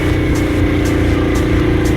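A motorbike engine drones steadily on a road near Rawalpindi, a loud low hum with faint rhythmic ticking and wind noise, no talk heard.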